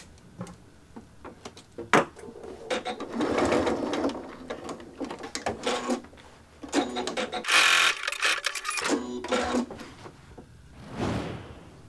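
A domestic sewing machine stitches a long continuous seam around an oblong of fabric for a drawstring tote backpack, running in close bursts that stop and start, with soft handling clatter between runs.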